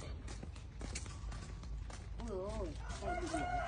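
Chickens cluck and a rooster crows from a coop in a rural Vietnamese yard, heard amid a steady noisy outdoor background with footsteps and people talking nearby.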